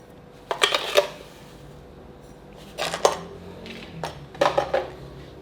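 Granulated sugar spooned into a bowl for dalgona coffee, heard as three separate clusters of bright metal spoon clinks and taps against the bowl, with quiet pauses between them.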